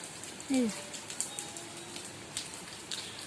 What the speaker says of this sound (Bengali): দেখো কি সুন্দর বৃষ্টি হচ্ছে টিপ টিপ টিপ টিপ করে